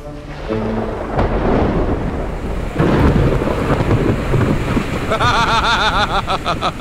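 A thunderstorm breaks over a farm, with heavy rain roaring steadily and loud, close thunder rumbling through it, while gusts of wind buffet the microphone.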